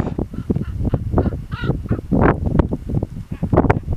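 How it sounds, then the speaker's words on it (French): A common raven calls out several times in harsh, croaking bursts over steady outdoor background noise, loud and fairly close. "ça c'est le bruit d'un autre oiseau typique de l'endroit, le grand corbeau"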